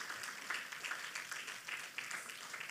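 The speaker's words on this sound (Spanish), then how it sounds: "Denle un aplauso a Dios con la mano del templo del Espíritu Santo." Congregation clapping at a church service, a steady crowd applause with scattered individual claps throughout, fairly distant and even.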